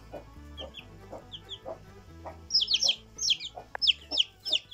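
Newly hatched chicks, some with feathered feet, cheep in high, thin bursts that cluster and grow busier in the second half, close by over a faint low hum and soft clucking.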